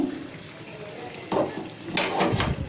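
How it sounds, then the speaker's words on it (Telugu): Water poured into a simmering chicken curry on medium flame, a splashing gush that swells midway and again near the end over low kitchen background noise. "అందులోకి మనం వాటర్ని యాడ్ చేసుకుందాము"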